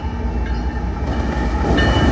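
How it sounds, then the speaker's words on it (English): A Union Pacific intermodal freight train rumbles loudly past the Elmhurst Metra station, a steady, close roar of wheels and cars rolling by without pause. "it's an intermodal train"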